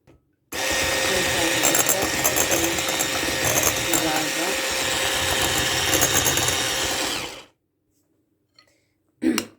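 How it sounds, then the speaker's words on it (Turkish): An electric mixer whips milk, whipped cream powder and cocoa, a loud continuous whirring buzz for about seven seconds before it stops abruptly, followed by a faint clink. "Şimdi bunları çırpacağım."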